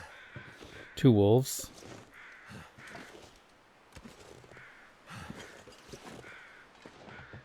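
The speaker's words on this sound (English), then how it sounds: "You can hear the crows." In The Long Dark, a crow gives one loud, harsh caw close by, while someone talks quietly through the whole stretch, with soft footsteps in the snow.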